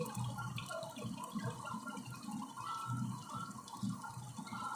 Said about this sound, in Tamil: 3 கிலோ அரிசிக்கு 6 படி தண்ணிங்க, தண்ணி ஊற்றுறோம்.